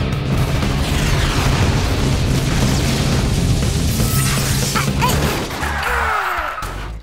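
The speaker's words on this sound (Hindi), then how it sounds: "और ये मेरी तरफ से क्रेजी मिसाइल आक्रमण।" A cartoon missile attack in an animated kids' car race series lands as a loud, sustained explosive boom and crash rumbling continuously, with whooshing effects near the end.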